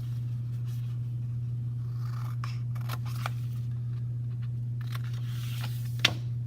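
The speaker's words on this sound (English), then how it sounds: "you can take a manila folder and measure approximately 2 by 7 centimeters and cut out a small rectangle" Scissors snip a few times while cutting a small 2 by 7 centimetre rectangle from a manila folder for a model rocket, with quiet crisp cuts over a steady low hum.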